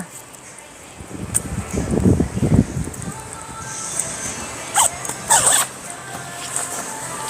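A zipper on a light nylon baseball-style jacket is drawn in a few quick rasping strokes, close and moderately loud, while people chat in Thai in the background.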